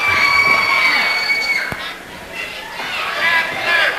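Wrestling crowd in the 1990s cheering as a wrestler walks in, a bright, busy mass of shouting and whoops that dips briefly then rises again, with voices of commentators mixed in.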